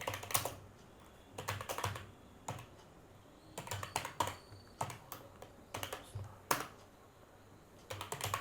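Rapid typing on a computer keyboard while a small Java program is written, clusters of crisp close key clicks in irregular bursts with short pauses between.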